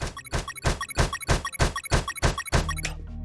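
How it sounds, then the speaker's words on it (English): Repeated punches against a tree in the video game UnMetal, eight loud, evenly spaced thunking hits in quick rhythm, followed by a brief low tail as the blows stop. "Punch the tree."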